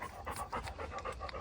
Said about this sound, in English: I don't know if you can hear my dogs. They are just panting.